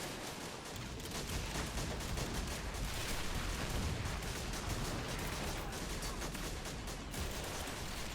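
World War One gunfire in a trench-assault video game, with French troops storming German trenches: a dense, continuous crackle of rifle and machine-gun fire mixed with heavier booms, loud and sustained throughout.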